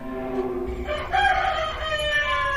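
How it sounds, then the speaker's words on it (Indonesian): A single rooster crow rings out nearby, a long drawn-out cock-a-doodle-doo that swells and then trails off. "mendengar suara ayam berkokok di luar dari jam-jam berkokoknya biasanya"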